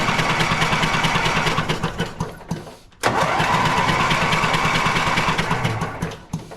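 A John Deere 116 lawn tractor engine is spun over, cranking steadily in a loud, close, continuous run, with a brief drop to near silence around the three-second mark before cranking resumes.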